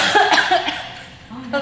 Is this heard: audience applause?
no